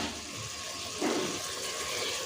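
Water poured into a cooking pot of mixed chicken tikka biryani ingredients, a steady gushing pour that swells louder about halfway through and runs on continuously with no talking.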